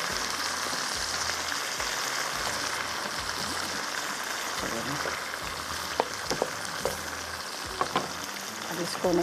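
Sarson ka saag being sautéed in a pan, a dense steady sizzle and crackle with a low rhythmic pulsing underneath and a few spoon clinks toward the end.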